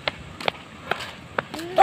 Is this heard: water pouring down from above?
no